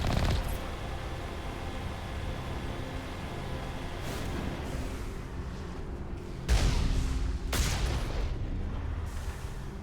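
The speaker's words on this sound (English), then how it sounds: "Oh, look, gunfire." Gunfire in Mass Effect Legendary Edition, a sustained low rumbling battle din with several sharp booming blasts and bursts, the loudest near the middle and toward the end, fairly distant and muffled.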